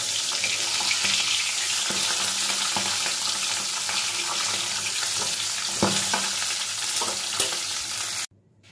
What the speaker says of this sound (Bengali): এবার মাছের মাথা দুটো আমি লাল লাল করে ভেজে তুলে নেব।